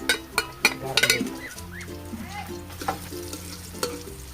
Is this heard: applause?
no